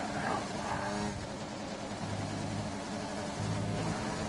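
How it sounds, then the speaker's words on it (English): A racing-simulation car engine over-revving with full simulation damage during qualifying at Hungary, a harsh, steady, strained drone that holds at high revs for several seconds, fairly quiet and with no talk. "That sounds absolutely horrible over revving."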